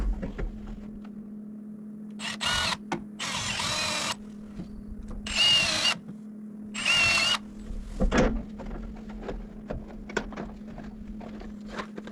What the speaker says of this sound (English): now I'll just pre-drill the rest of them